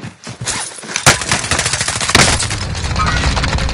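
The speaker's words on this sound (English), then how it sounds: "Under heavy fire here." Heavy automatic gunfire rattles in a dense, loud burst during a video game firefight, with sharp shots layered over continuous rapid fire.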